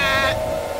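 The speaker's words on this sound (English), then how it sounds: "Looks like Wooly wants to hang out with his sheep friends." A sheep in the video game Amanda the Adventurer gives one brief, wavering bleat at the start, then fades into a steady, low ambient tone.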